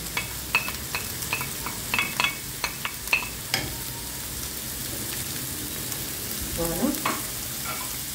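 Squeezed Swiss chard frying in a pan, a continuous close sizzle with a scattering of crisp pops and utensil taps as it is stirred, moderately loud and steady, no voices.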